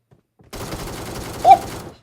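Gunfire in the PUBG Mobile video game starts abruptly after a moment of silence as a loud, dense rattling burst lasting over a second, with a sharper crack near the end, close and without talk.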